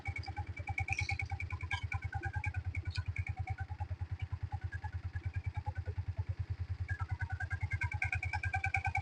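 An auto-cut electric motor drives a sprayer used for spraying pesticide onto mango trees, producing a steady, rapid pulsing hum with light clattering on top, heard from close by.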